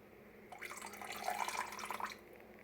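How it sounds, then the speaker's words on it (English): Vinegar being poured into a bowl of water with raw chicken, a short steady trickling splash that starts abruptly, runs for under two seconds and stops, fairly quiet and close, with no talk. "I have a little vinegar here and I'm about to pour it in the water with the chicken"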